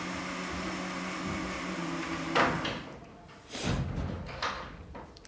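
A door swings and shuts with a soft knock, followed by a louder thud and rattle as it closes against its frame, heard nearby over a steady background hum with no talking.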